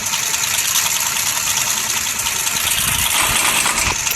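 A motorbike engine in the video game GTA 5 runs at a steady, dense idle-like drone, loud and continuous with a faint knocking texture, and no voices over it.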